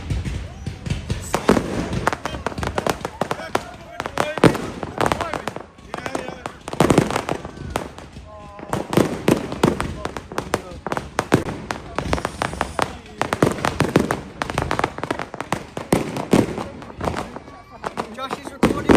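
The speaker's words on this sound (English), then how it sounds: "Fireworks are starting." Fireworks crackle and bang outdoors on Bonfire Night, a dense, continuous run of sharp bursts and crackles at close to middling distance with a few louder booms, while people talk over them.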